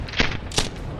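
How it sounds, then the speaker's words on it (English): Two sharp, heavy 25mm autocannon shots about a third of a second apart, loud and booming, with no voices. "It opens fire from a 25mm cannon."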